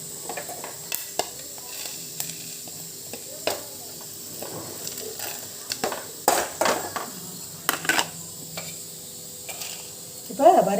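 Spices for puliyodharai sizzle and rattle as they are dry-roasted and stirred in a hot pan, with intermittent scraping clanks and brief bursts of noise throughout.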